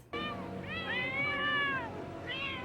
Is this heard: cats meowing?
yes